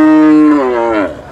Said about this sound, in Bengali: আমাদের সামনে যে হাড্ডি গাই গরুটি রয়েছে